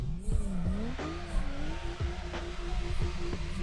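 Car drifting in the racing game Torque Drift 2, a steady engine drone with wavering pitch and tire noise, with repeated short scrapes or bumps, no talking.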